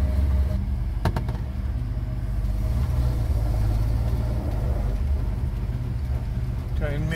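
A 1929 Cord L29 with no power steering running at low speed while backing out, a steady low engine rumble close by with a couple of sharp knocks near the start.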